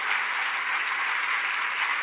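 A church congregation applauds during a sermon, producing a steady, even roar of many hands clapping for about two seconds with no voices over it.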